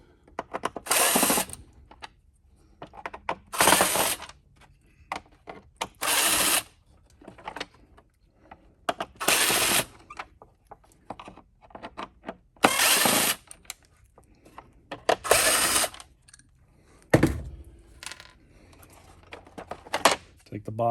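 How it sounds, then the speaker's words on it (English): Power driver bursts remove the bottom-plate screws from a Bissell CleanView vacuum: about eight loud whirring bursts of one to two seconds each, with clicks and handling noise between them. "what we're going to do is just take off all these screws"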